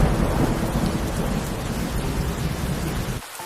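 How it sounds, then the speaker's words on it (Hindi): Heavy rain pours steadily with rolling thunder, a dense loud roar that runs almost continuously before dropping off abruptly at the very end. "2 दिन लगातार बीतने के बाद भी बारिश नहीं रुकती है।"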